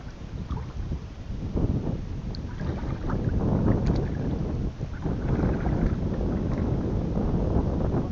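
Strong wind buffets the microphone aboard a small boat on open water, a loud continuous rushing roar with gusty swells and no talk.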